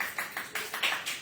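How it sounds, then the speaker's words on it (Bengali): Scattered applause from a small group celebrating an airbrush makeup result in a class, with about six loose bursts of clapping over roughly a second, fairly close and without talk. "ওই যে হাততালি দিচ্ছে সবাই"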